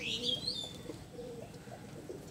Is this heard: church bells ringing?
no